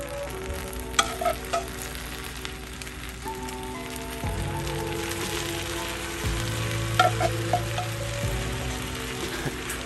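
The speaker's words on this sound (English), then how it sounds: "you should hear an amazing sizzling sound coming from the baklava" Dense, crackling sizzle of syrup poured onto hot walnut baklava, heard up close, continuous and bright, with faint clicks and a low hum underneath, no voices.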